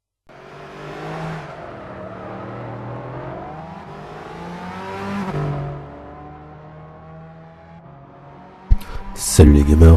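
A Nissan GTR Nismo GT3 Team RJN 2013 race car in Gran Turismo 6, its engine revving and rising through gears, loud and continuous, ending with sharp harsh bursts.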